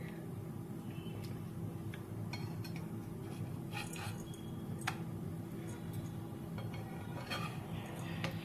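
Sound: flipping coconut-mango mawa satori on a griddle (tava)

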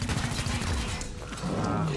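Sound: gunshot in the video game XCOM: Chimera Squad

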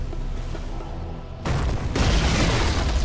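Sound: tower under attack explosions in the video game Dota 2

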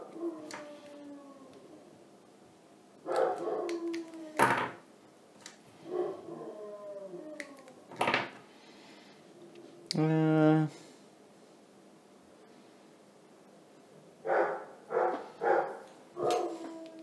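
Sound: dog barking and howling

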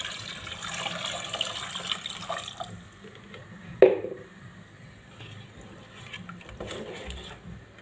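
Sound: hot water being poured into couscous pot

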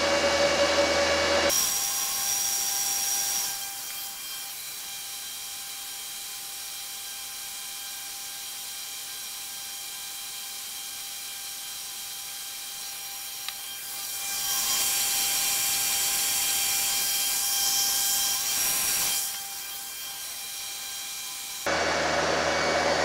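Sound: cryptocurrency miner fans running

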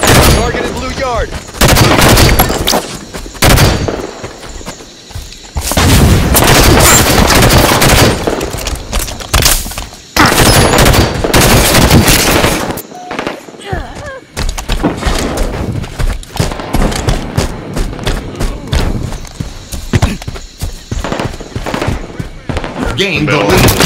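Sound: gunfire in Halo 5 multiplayer, from a video game

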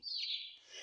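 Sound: bird chirping in the video game Garten of Banban

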